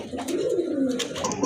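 A mixed pair of pigeons, a Grizzle and a female Giribaz, coos in a low, steady, throaty rolling tone that fills the moment close up, with faint background noise and no talk.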